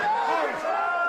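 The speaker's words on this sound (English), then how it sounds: "this crowd are appealing for everything that they can" Rugby league crowd at a Challenge Cup match between Dewsbury Rams and York Knights, a steady loud roar of massed shouting and appeals with overlapping voices, continuous throughout.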